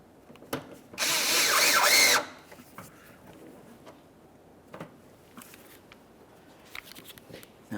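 A power drill drives the bumper cover mounting screws in the wheel well of a 2011–2020 Toyota Sienna. One loud, close burst of about a second sits between scattered clicks and handling knocks, with no talking.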